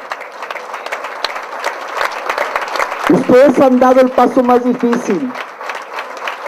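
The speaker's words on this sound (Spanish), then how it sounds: "Un fuerte aplauso." An audience at a business opportunity meeting keeps up steady clapping while someone speaks loudly over it in Spanish, the applause continuing evenly under his voice.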